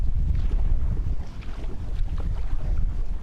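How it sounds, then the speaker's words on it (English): Strong gusty wind buffeting the microphone on a lake during trout fishing, a loud continuous low roar with no break and no voices. "this wind is much nastier than this morning"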